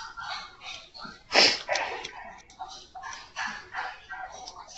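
A dog nearby gives a loud yelp followed by a run of muffled barks, whines and whimpers, all heard over a faint background of a room during a math class session.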